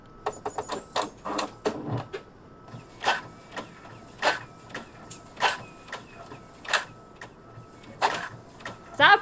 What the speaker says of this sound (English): Is that a printer?